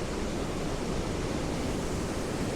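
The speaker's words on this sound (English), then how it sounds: "So we've got waterfall number 5 down here, which is Baxenghyll Gorge." Baxenghyll Gorge waterfall on the Ingleton Waterfall Trail pours as a constant, loud, broadband roar of falling water through a rocky gorge, steady throughout with no voices.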